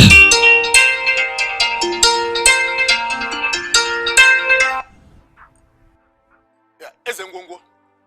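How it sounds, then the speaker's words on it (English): A melodic phone ringtone plays loudly for several seconds, then stops abruptly, followed by near silence and a brief faint rustle. "His number is ringing."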